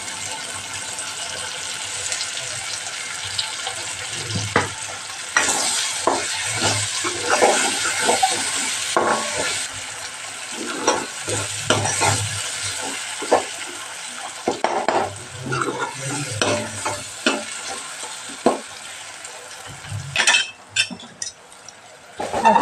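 Masala with red chili powder frying in oil in a pan for a Gujarati gravy moong curry, with steady sizzling and repeated scraping stirs and clinks of a spoon against the pan, close and alone.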